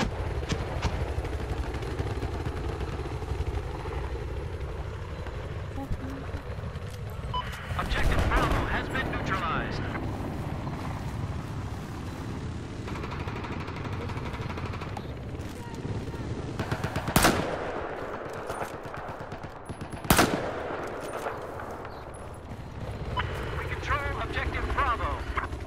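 Battlefield 4 combat erupts with rapid machine gun bursts and scattered heavy explosions over a constant helicopter drone, with a few sharp loud blasts standing out while someone talks over the din.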